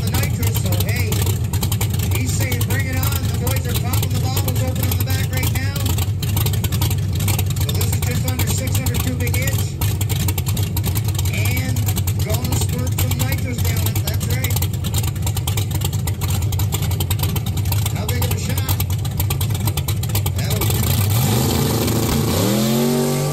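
A no-prep drag racing truck engine roars and revs continuously at high volume, rising in pitch as it accelerates near the end.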